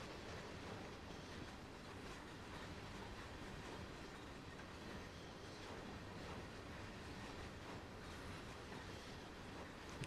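A freight train of aggregate wagons in the Train Sim World game, Great Western Express route, rumbles steadily with a continuous rolling roar and faint clickety-clack of wheels, loud and unbroken throughout with no talk.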